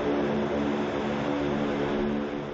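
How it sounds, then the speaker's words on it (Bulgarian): A Spartan military transport aircraft lands after midnight carrying patients, its engines droning loud and steady throughout with a broad, continuous roar and no speech. "Спартанът кацна след полунощ с пациентите"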